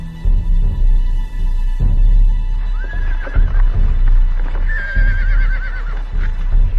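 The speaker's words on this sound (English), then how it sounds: "Both sides left their horses behind." Horses in the desert near the Garub well at Aus whinny twice, long wavering neighs rising over low hoof clops and shuffling, close and fairly loud.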